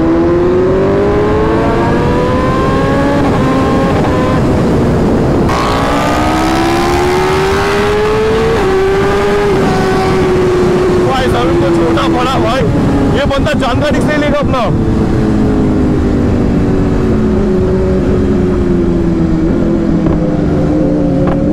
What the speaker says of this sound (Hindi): अभी मुझे इंतजार है खतरनाक राइडर्स का फ्लाई बाई का।